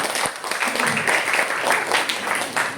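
Audience applause for two question askers at a school outreach session in Jambi, a steady wash of clapping from a crowd lasting a few seconds, fairly close and without talk over it.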